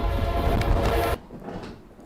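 A train in a scary video game roars loudly, close and steady, then cuts off abruptly partway through, leaving a low rumble behind.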